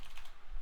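Brief burst of quiet typing on a computer keyboard while writing code, a few soft key clicks close by with no voices.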